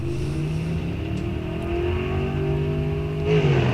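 A 1964 Chevelle drag car at a drag strip start line holds a loud, steady rumbling idle-rev, its engine note rising slightly near the end, heard close with no talking.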